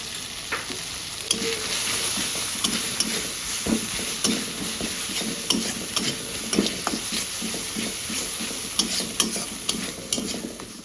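Prawns fry in a pan with turmeric and salt, giving a steady close sizzle broken by frequent scraping stirs at an irregular pace. Nobody speaks.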